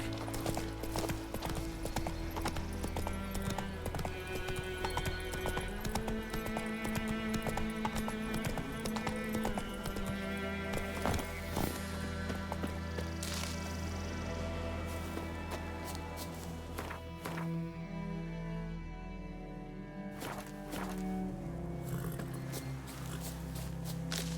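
Steady clip-clop of a horse's hooves riding at pace in the video game The Witcher 3, continuous and close, with a brief whinny and faint game sounds underneath.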